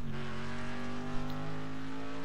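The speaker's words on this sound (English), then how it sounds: "if you listen to the engine, it sounds pretty cool as well" A car engine in a racing video game holds a steady, droning hum with a clear tonal whine. The sound stays loud and even throughout with no talk over it.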